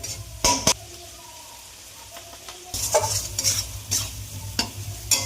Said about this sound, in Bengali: এবার মশলাটা কষিয়ে নিতে হবে ভালো করে